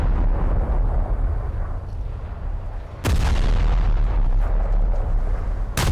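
Heavy naval shell impacts strike a ship in War Thunder naval battles, a loud broadband boom near the three-second mark and another at the end, over a dense rumbling backdrop of continuous gunfire and engine noise.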